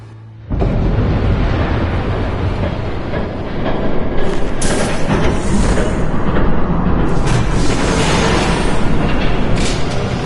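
A train rumbles past in a Batman video game, a loud continuous roar with heavy low rumble that builds and holds for several seconds, with no speech over it.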